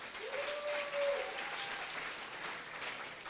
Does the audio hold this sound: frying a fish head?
no